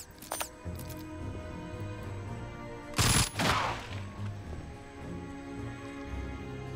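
Gunfire in the tactical game Jagged Alliance 3, a short loud burst of shots near the three-second mark with a brief earlier crack, set against steady game ambience and music.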